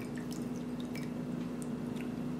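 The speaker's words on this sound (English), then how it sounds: "So what you're going to want to do is you pour like" Tea poured from a gaiwan into small cups, heard as a soft, close trickle with scattered light drips over a steady low hum, with no talking.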